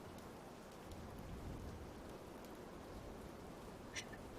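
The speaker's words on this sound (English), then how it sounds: "I think it's because of the rain effects." Video game rain effects give a steady, soft hiss of falling rain with a faint patter and one brief brighter tick near the end, with no talking.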